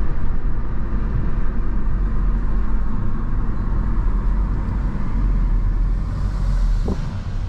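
A Chevrolet Cruze 1.4 turbo or a remapped manual Toyota Corolla 1.8 launches from a standstill, its loud engine roar and road rumble steady and close throughout, easing slightly toward the end.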